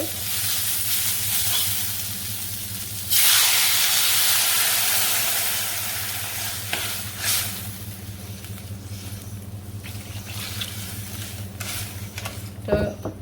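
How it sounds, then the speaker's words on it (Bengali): Food frying in a pan in a home kitchen gives a steady, close hiss that swells into a louder crackle when more goes in, then settles back over a low background hum, with occasional clatter of a utensil. "তো এখন ভেজে নেব"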